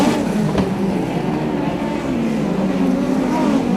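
Midget speedcars race in the Queensland Midget Title A-Main at Archerfield Speedway, their engines making a loud, steady, continuous roar from start to finish.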